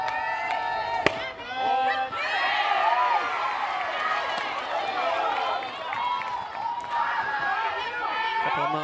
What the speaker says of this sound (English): Couple of moans from the crowd on that pitch